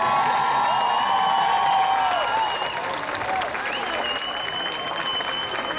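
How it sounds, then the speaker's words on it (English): A crowd at an outdoor rally in Vancouver applauds young girls with sustained clapping, cheers and whoops, loud and continuous throughout. "I want you to give a round of applause for all these young girls"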